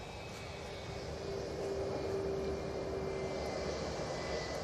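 A Ryanair airliner arriving from Dublin touches down at Manchester Airport, a faint, distant, steady jet roar that swells slightly and holds, with no talk.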